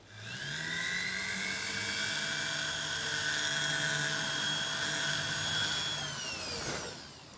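A small high-pitched power drill bores a hole into a wooden head in a repair workshop, whirring steadily for several seconds before spinning down.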